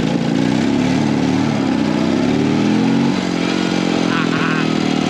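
A BMW R75 motorcycle with sidecar, a heavy Wehrmacht-era combination, pulls away in first gear with a loud, close, throbbing engine note that rises and holds steady, then eases slightly.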